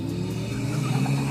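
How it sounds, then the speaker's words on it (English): Ariel Atom 4 engine running with its turbocharger spooling, a steady close mechanical hum and whir with a faint high whine, heard alone without talk. "Oh, you can hear the turbo working away."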